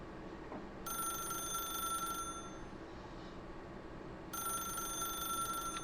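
An in-game telephone in The Stanley Parable rings twice, each bright, steady electronic ring lasting over a second with a pause between, heard clearly over a low background hum with no talking.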